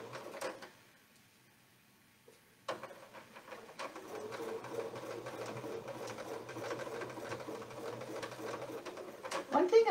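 A sewing machine stitches quilting with coil templates, overstitching previous quilting lines; a steady, continuous motor hum and needle chatter run close and fairly loud after a brief pause, with a few light clicks.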